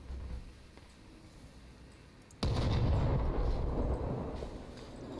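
Heavy gunfire from a mech vehicle in the Crossout combat game hits after a quieter stretch, a sudden loud blast followed by sustained rumbling bursts.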